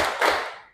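A group of students clapping in a classroom, a short burst of handclaps close by that swells and fades quickly with no talk.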